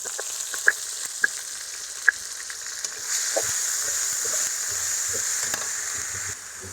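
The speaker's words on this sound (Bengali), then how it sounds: "এখন ভাজার জন্য কিছুক্ষণ অপেক্ষা করব। আমাদের পেঁয়াজটা ভাজা হয়ে গেছে" Onions fry in a pan on a village clay stove, giving a steady hiss and sizzle with a few sharp clicks at first, then a louder continuous crackle, close by and without talk.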